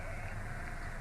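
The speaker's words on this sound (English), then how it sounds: "grey soggy sheep." Sheep bleating out on grey, wet North Wales hill country, a steady nearby bleat filling the short moment with no talk over it.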